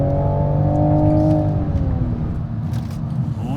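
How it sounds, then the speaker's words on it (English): A 2020 Toyota Supra's turbocharged straight-six revs up hard, a loud rising harmonic howl that peaks and then eases off into a lower rumble as the car moves on. "This turbocharged straight six engine just sings"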